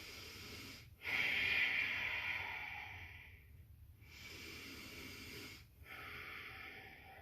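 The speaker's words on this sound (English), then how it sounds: "take a few deep breaths" Slow, deep breaths taken by someone standing still with eyes closed during a teen yoga session, heard as long, airy inhales and exhales in a steady rhythm, close and fairly loud, with brief pauses between them.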